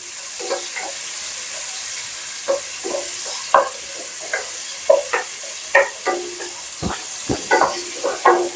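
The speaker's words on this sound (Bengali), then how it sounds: "কাঁচামরিচ পেঁয়াজ আর টমেটো দিয়ে ভেজে নিচ্ছি" Green chili, onion and tomato fry in a pan, a soft sizzle beneath frequent scraping stirs and clinks of a spatula against the metal.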